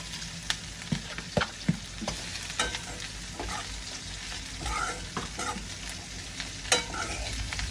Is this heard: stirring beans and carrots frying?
yes